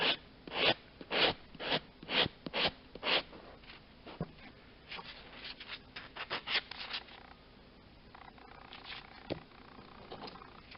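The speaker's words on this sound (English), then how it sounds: "Now again, taking the sanding block" Rhythmic rasping strokes of a sanding block on acrylic nails, about eight even passes, then quicker lighter scratching, close and crisp.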